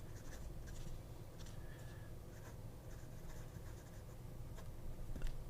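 Hongdian fountain pen with a wet nib scratching softly across paper, faint close strokes with small scrapes, no talking.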